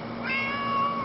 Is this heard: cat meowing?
yes